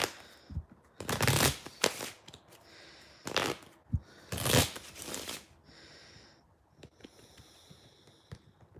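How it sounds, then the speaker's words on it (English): Playing cards shuffled at close range during a live tarot reading, heard as several bursts of riffling and fluttering with short pauses between them, followed by lighter card handling and soft taps. "so let me shuffle the playing cards for that."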